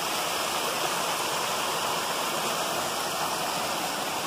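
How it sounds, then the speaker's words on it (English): Small waterfall at Mountaineer Falls beside the Appalachian Trail, a constant close rush of flowing, splashing water with an even, unbroken hiss and no one talking. "Nice little waterfall."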